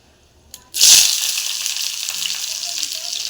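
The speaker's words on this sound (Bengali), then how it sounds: "তেলটা গরম হয়ে গেছে, এবার আমি একটা শুকনো লঙ্কা ফোড়নে দিয়ে দিলাম" Dried red chili hits hot oil with a sudden loud burst of sizzling that settles into a steady, close hiss of frying for spinach cooking, with no talk.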